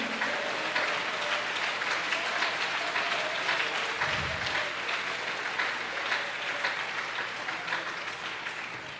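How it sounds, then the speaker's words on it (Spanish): Church congregation applauding during a Spanish-language sermon, dense sustained clapping filling the room steadily for the whole stretch, loud and even without pause. "si ese aplauso es para Él, de lo más fuerte"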